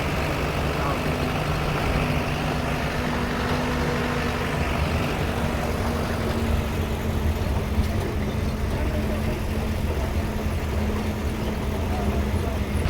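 Jeeps idle and rumble steadily at close range while crossing on a narrow, rough mountain road near the LOC on the Pakistan-India border, with a constant low engine drone throughout.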